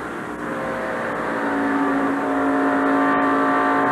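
Stock race cars run flat out in a tight pack at the 1988 Atlanta Journal 500, engines whining in a steady, building roar with no voices over it.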